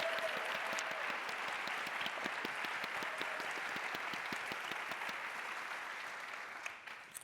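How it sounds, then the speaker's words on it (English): Sustained applause from a conference audience for youth poets at an opening plenary, a dense steady clapping that carries on throughout and thins slightly toward the end. "please join me in another round of applause for the incredible"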